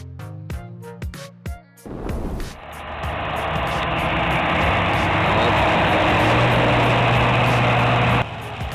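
A heavy tractor pulling a plow is stuck in mud, and its engine roars and strains under the load. Sharp knocking bursts come first, then a loud, steady, grinding drone that holds until it drops off near the end.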